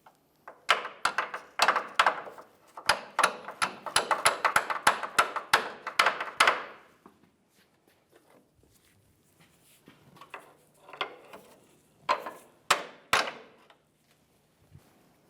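Rearward mounting bolt for a front inner lower control arm bushing, 2002-2009 Chevrolet, being tapped into place: quick bursts of sharp metallic taps in fast runs, then a pause and a few scattered louder knocks near the end.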